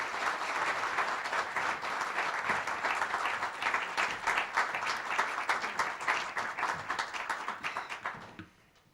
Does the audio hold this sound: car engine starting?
no